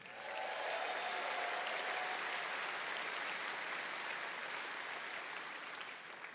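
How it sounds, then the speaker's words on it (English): Sustained applause from an audience at an awards ceremony honouring inductees to Canada's Rock of Fame, a dense, even wash of clapping that swells quickly and holds steady before tapering off. "A big round of applause to the Magnificent 13."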